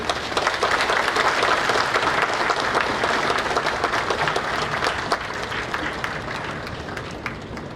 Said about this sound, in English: can we have one more round of big applause for the Honorable Chief Minister?